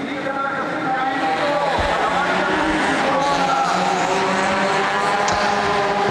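Touring race cars in the 2007 World Touring Car Championship qualifying at Monza, with engines droning and whining steadily around the circuit while a commentator talks over them.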